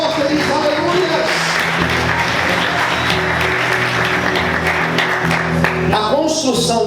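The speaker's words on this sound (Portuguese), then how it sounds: "Aplauda o Senhor, feliz, aleluia!" A church congregation claps and cheers during a worship service, a steady, dense wash of applause mixed with music and voices that holds loud throughout.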